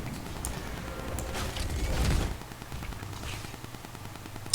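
A fort being destroyed in the video game Heroes of the Storm, a rumbling crash of battle noise with rapid gunfire-like crackle that swells to a peak about two seconds in and then settles to a steadier clatter.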